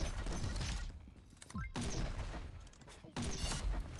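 Sniper rifle fire from the Black Label Sniper in the shooter game Pixel Gun 3D: three sharp, loud shot bursts spaced roughly a second and a half apart, each with a short mechanical rattle and a decaying tail.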